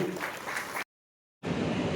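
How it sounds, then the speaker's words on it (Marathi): Audience clapping at a government certificate-distribution ceremony in Sindhudurg, a dense patter of many hands that breaks off into silence for a moment before resuming at moderate volume. "उपस्थित प्रेक्षकांना विनंती आहे, कृपया एकदा जोरदार टाळ्या वाजवून या कार्यक्रमाला रंग लावावी."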